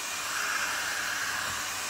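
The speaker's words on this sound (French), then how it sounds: "Je me sers beaucoup du décapeur thermique." Heat gun on its strongest 600-watt setting blowing onto a clay pottery hedgehog for raku firing, producing a steady airy hiss and whoosh that stays constant and moderately close throughout.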